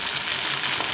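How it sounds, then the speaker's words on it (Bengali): Potato and tomato pieces sizzle steadily in hot oil in a pan, a dense, even crackling hiss that holds close and constant without a break. "এইভাবে উল্টে পাল্টে লাল করে ভেজে নেব"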